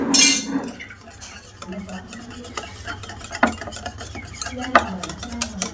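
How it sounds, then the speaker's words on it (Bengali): Yogurt whisked in a bowl for homemade doi makes quick repeated clinking and scraping strokes of a utensil against the bowl, fairly close and irregular in rhythm. "আমার দইটা ভালো করে ফেটিয়ে নেব।"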